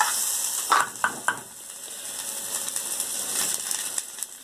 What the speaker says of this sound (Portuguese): E aqui a gente vai colocar um pouquinho de cebola também picadinha.